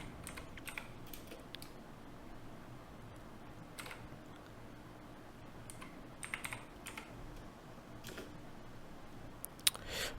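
Fingers type on a computer keyboard in irregular bursts of soft, close clicks with brief pauses over a quiet room background, with no talk.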